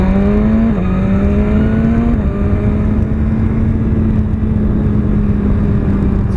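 A 2017 BMW S1000RR motorcycle engine drones steadily while riding along a rough, rutted road, loud and close, with brief pitch dips at gear changes before settling into a sustained hum under wind noise.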